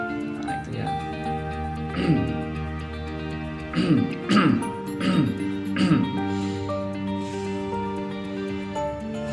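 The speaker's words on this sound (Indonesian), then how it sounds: "rasakan seperti ketika kita batuk" Several short, harsh cough bursts, spaced unevenly with a pair close together, over a steady droning background hum.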